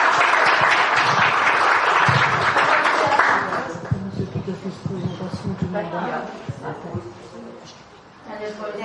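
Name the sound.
audience applause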